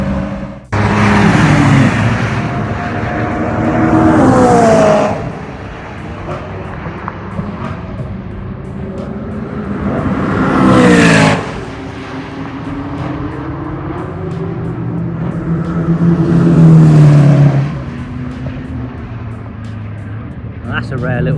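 Race cars at the Zandvoort circuit during a track day roar past one after another, each loud pass rising and fading in turn, with a commentator talking over the engine noise throughout.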